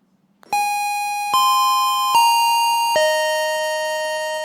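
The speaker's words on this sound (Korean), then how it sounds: "다른 종이 울리고 있습니다." Bell-like tones strike four times in slow succession during a Korean church Sunday service, each ringing out with long sustained harmonic decay and a slightly different pitch, loud and clear with no talk over it.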